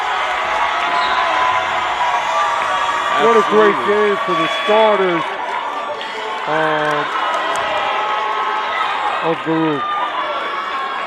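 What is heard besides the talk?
basketball crowd cheering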